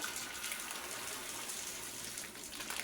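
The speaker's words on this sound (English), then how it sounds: "So I'm going to rinse these." Running water gushes steadily through a sieve as lentils are rinsed over a bowl, a continuous close splashing hiss lasting the whole moment with no talking.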